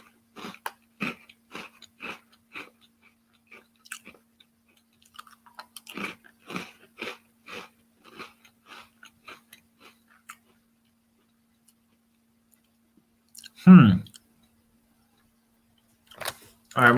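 Close, crisp crunches of biting and chewing a sugar-coated cracker-like cookie, a steady run of rhythmic chews that thins out into silence, then a louder bite and a brief voice near the end.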